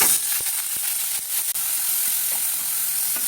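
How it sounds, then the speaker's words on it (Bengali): Prawns frying lightly in mustard oil with cumin and bay leaf, a loud, continuous close sizzle and hiss with a few sharp stirring clicks, no talking. "চিংড়ি মাছগুলো একটু ভেজে হালকা ভেজে"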